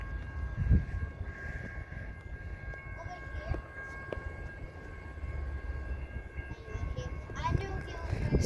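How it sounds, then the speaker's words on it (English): A BNSF freight train passes with a low, steady rumble of rolling cars, and a faint horn and some squealing come through toward the end. The train sounds fairly distant, and people talk quietly nearby. "Finally got a train coming."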